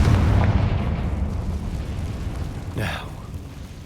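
A Confringo blasting spell explodes in the Hogwarts Legacy video game, a loud, heavy rumbling blast that roars at the start, fades into a long tail, then swells again with a sharp crackling burst near the end.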